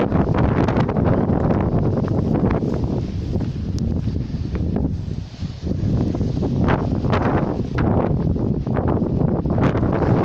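Storm wind at an allotment plot with a small cabin, roaring continuously and loudly against the microphone in rough gusts, with no speech.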